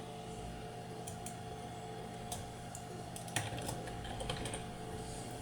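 Computer keyboard typing, scattered light key clicks up close over a steady hum of a running machine, no voices.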